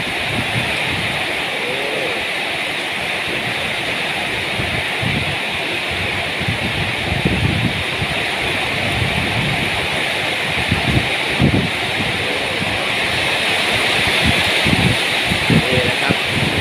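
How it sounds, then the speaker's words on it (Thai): Heavy rain pours at night under strong gusting wind, a dense continuous roar of falling water with rustling bursts that swells slightly over time, while someone talks over it. "นี่นะครับตกแรงลมด้วยนะครับพี่ลมแรงด้วย แล้วก็ฝนทั้งหมดนะครับพี่"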